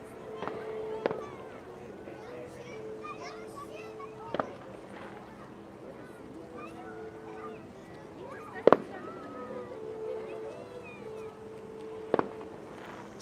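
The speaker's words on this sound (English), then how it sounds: "Salute, some fireworks." Festive fireworks salute over a city in Tyumen, Russia: four sharp distant bangs at irregular intervals, the third loudest, over a steady murmur of crowd and ambient noise, with a cat-like tonal sound in the background.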